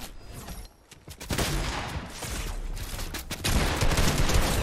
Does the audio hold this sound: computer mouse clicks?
no